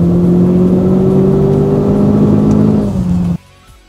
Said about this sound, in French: vous allez vraiment pouvoir passer tous vos rapports jusqu'au régime de rupteur, comme ceci